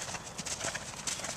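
A horse's hooves beat rhythmically at the canter in a riding lesson, with quick, close clip-clops over a steady background.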